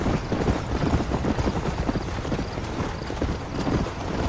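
A horse gallops in the Western video game Red Dead Redemption, with a steady rapid rhythm of hoof clip-clops heard close up and loud, and no talk over it.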